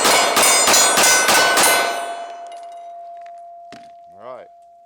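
A Glock 26 9mm pistol fires about six rapid shots in quick succession, loud and sharp, then a long ringing decay followed by a couple of faint metallic clinks.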